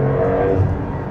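A Porsche 911 Turbo S Cabriolet engine revs in a brief, loud, close burst with a dense industrial roar and no speech over it.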